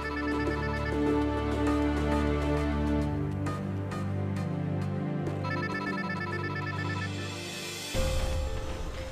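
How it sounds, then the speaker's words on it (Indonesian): A telephone rings in a dramatic indoor scene: a steady, repeating ringtone with tonal bursts plays loudly over a music-like bed, with a shift in the sound near the end. "Mas, itu ada telepon tuh, Mas. Mas Fahmi."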